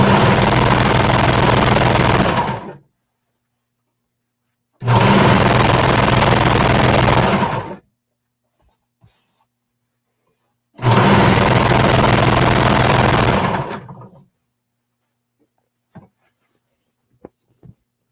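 A home sewing machine stitches jacket pieces along a long edge in three loud, steady bursts of rapid whirring, each lasting a few seconds with silent pauses between, ending with faint clicks.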